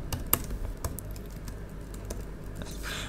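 Keys clack quietly on a computer keyboard as code is typed, an irregular run of soft, close keystrokes with a few sharper taps.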